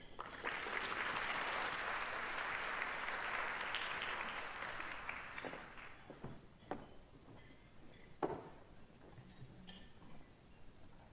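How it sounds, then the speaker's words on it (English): An audience at a campus sexual assault summit applauds to welcome speakers, with steady sustained clapping for several seconds that thins into scattered claps and fades out. "So please join me in giving a round of applause"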